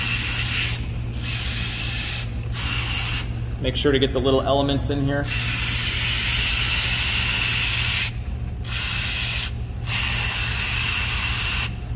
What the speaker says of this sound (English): Just get yourself some mass airflow sensor cleaner, and then you're just spraying it on.